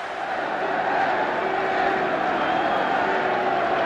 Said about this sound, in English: just listen to the roar from this crowd as the red jersey appears